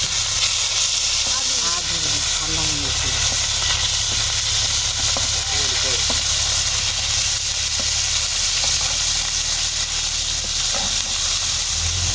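Fish frying in oil in a pan over an open village fire, a steady loud hiss and sizzle filling the whole stretch, with crackles and faint voices in the background.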